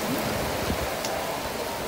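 Rain falls on a Swan 82 sailing yacht moored off an island near Grenada, a steady hiss of drops spread evenly and filling the short stretch without a break. No voices.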